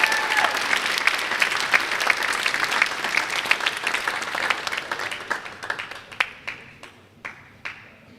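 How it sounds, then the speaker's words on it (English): Applause for the women's soccer seniors at an athletic honors and awards ceremony: dense, sustained clapping from a crowd that thins out over the last couple of seconds into a few scattered, isolated claps. "A round of applause for our soccer seniors."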